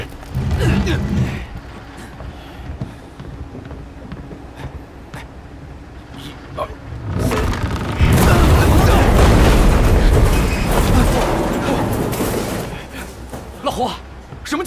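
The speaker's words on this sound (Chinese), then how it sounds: "我怎么听着像炮声？" Explosions like cannon fire boom at sea, heavy low thuds with a long rumbling stretch in the middle, loud and close, with people talking over and between them.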